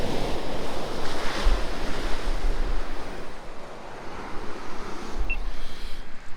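Sea waves wash onto the beach at Kilnsea with a constant roaring surf, buffeted by wind noise on the microphone, loud and continuous with slight swells.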